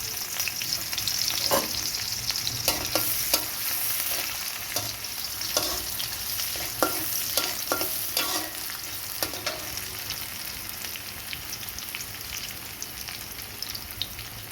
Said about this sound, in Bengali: তেলটা মোটামুটি গরম হয়েছে, আমি এখন এখানে পেঁয়াজ কুচি এবং রসুন কুচি দিয়ে দিব।